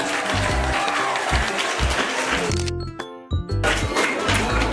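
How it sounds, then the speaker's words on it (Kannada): Parents and students at a school Krishna Janmashtami celebration give a loud, sustained round of applause. The hall is full and the clapping is dense, with a brief dip before it surges again. "ಬರೀ ಜೋರು ಚಪ್ಪಾಳೆ ಪೋಷಕರಿಗೆ ಮತ್ತು ವಿದ್ಯಾರ್ಥಿಗಳಿಗೆ"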